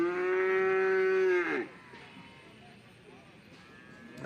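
Buffalo at a livestock market giving one long, loud, close moo that falls away after about a second and a half, leaving faint background market noise.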